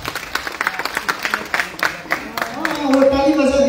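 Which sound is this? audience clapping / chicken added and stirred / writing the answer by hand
audience clapping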